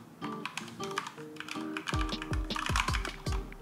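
Rapid typing on a computer keyboard, close crisp key clicks in quick runs over a musical game soundtrack with deep low thuds.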